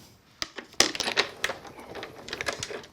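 Die-cutting machine rolling a metal background die through paper to cut a striplet, close clicks and ratcheting crunches in an uneven burst of sharp taps, no talking.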